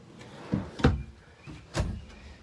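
A drawer in a 2020 Surveyor Legend 29QBLE travel trailer slides and bumps shut, giving a few short knocking thuds and a faint rattle close by, with no talking.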